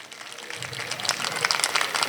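Audience applause at a Kachhadiya family community gathering in Surat, a dense wash of clapping from many hands that builds slightly and holds steady across the whole moment.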